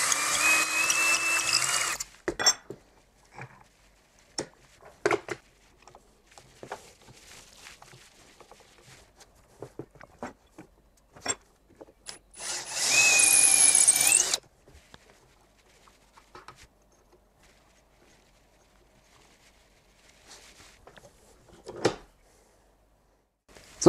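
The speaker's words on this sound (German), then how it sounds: "die Bohrungen setzen an diesem Stab, aber das machen wir per Hand mit dem Akkuschrauber" A cordless drill bores holes into a wooden dowel rod by hand, heard as two loud whirring bursts at the start and midway, with scattered knocks and handling clatter between them and no talking.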